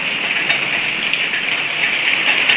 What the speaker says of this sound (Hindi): बारिश बहुत ज़्यादा तेज़ है।